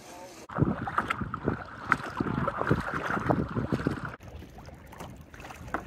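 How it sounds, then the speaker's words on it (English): Wake boat engines rumble steadily over open lake water in Grand Teton National Park, with wind buffeting the microphone and splashing waves throughout. "Some pretty nice wake boats out here."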